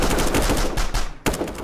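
Rapid bursts of loud gunfire in Warhammer: Vermintide 2, shots repeating in quick rhythm with a brief cutoff before another burst resumes.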